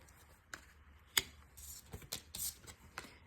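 Tarot cards are shuffled by hand in a quiet room, giving faint, irregular crisp riffles and soft slaps close by, with no one speaking.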